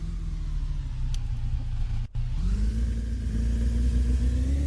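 A lowered rear-wheel-drive Ford Focus revs in the My Garage car game, giving a steady mid-pitched engine drone. It drops out for a moment, then comes back with a rising rev into a loud, sustained note.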